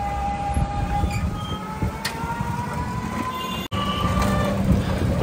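A train pulls into Ghazipur City station: a steady rolling rumble with sustained horn-like tones above it, loud and continuous with a brief dropout near the end, no voices.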